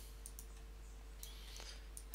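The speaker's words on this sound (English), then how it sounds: "we'll left click, right click, right click, left click, right click" Computer mouse buttons click several times at a desk while digitizing in Wilcom embroidery software, short crisp taps spaced irregularly over a steady faint electrical hum, fairly quiet and with no talking.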